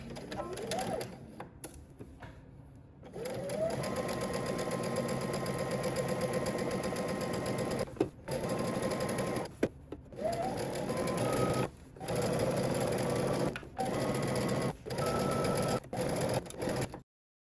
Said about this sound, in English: Now we're going to stitch using 5/8 of an inch seam allowance